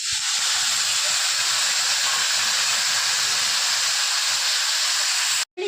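Steady, loud hissing sizzle runs throughout as tamarind water boils in a pan for vatha kuzhambu, cutting off abruptly near the end.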